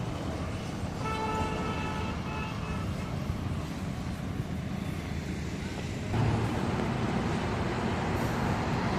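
A lorry passes on a busy highway at a circle corner on the Guntur route, a steady broad roar of traffic with a brief horn toot early on and the rumble swelling louder near the end.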